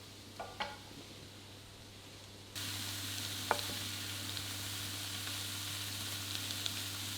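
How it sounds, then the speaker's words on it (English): King prawns sizzle steadily in a hot pan, the sizzle jumping louder partway through, with a few light scrapes and clinks of stirring. "Stir it all together and fry for a further 2 minutes"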